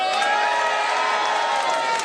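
A comedy club audience cheers and whoops in a steady, loud wash of crowd noise that holds for a couple of seconds with no talk over it.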